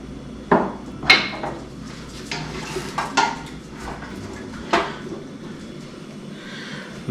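Clam chowder with potatoes and clam juice gets stirred in a pot, producing a handful of scattered, fairly close clanks and knocks of a utensil against the pot amid quiet background.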